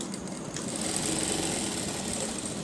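A sewing machine stitching both sides of a fabric neck design, a steady fast mechanical whir and rattle running continuously and close, with no talk over it.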